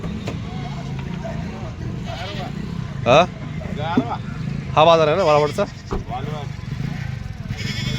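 Goats bleat repeatedly over the hubbub of a busy outdoor goat market at Walwad, Dharashiv district, with people talking and engines idling nearby.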